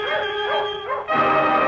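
Hunting dogs on a jaguar trail give short, close yelps and whining barks in a quick burst, tense and high-pitched, with no talk.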